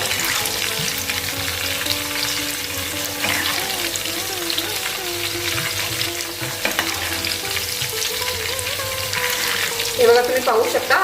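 Soya chunks fry in hot oil while being stirred, a steady close sizzle with scraping and stirring noises throughout and a brief louder clatter near the end.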